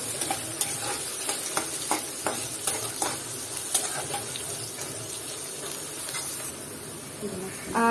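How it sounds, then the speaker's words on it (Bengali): Chopped onions frying and being stirred until light brown for a mutton curry, a continuous close sizzle punctuated by rhythmic scraping strokes of a spatula, with a brief sharper clatter at the very end. "আর এখন এটাকে ভালো মতো নেড়ে চেড়ে দিব একটু হালকা ব্রাউন কালার করে নিব আমি"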